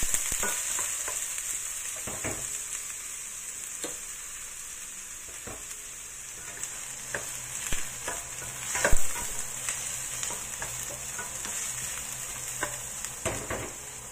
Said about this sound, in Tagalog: i-fry lang natin yan hanggang sa maging brown yung ating garlic at saka onions.